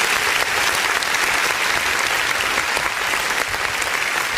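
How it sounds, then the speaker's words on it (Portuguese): A church congregation applauds during an online worship service, a dense, steady wash of clapping at full volume that continues without a break. "Vamos aplaudir o nome do Senhor Jesus."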